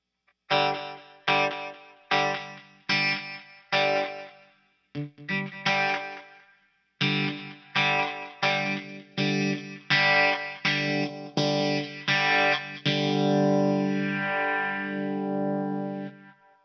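An electric guitar runs through a Keeley Vintage Phaser with the depth turned up, playing a string of short, punchy strummed chords with pauses, then a long sustained chord that sweeps and swirls.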